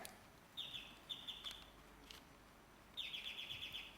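A bird chirping sound effect used as a buzzer in a rapid-fire quiz round, quick bursts of high, bright tweets, three separate bursts, faint and alone.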